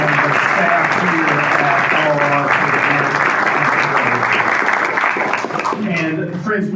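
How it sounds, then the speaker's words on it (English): Sustained applause from a luncheon crowd at a capital campaign kickoff event, dense steady clapping filling the room throughout with a voice faintly audible beneath it near the end. "Let's give another round of applause to Courtney Nuzzo and Donna and the staff here"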